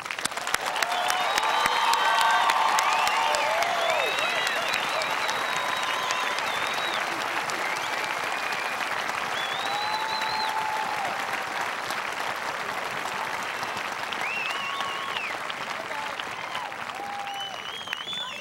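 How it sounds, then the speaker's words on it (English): Sustained applause from a crowd at a high school graduation ceremony for the class of 2006, broad and steady throughout with scattered whistles and cheers rising over the clapping. "Audience, we'd like to start by giving the class of 2006 a large round of applause."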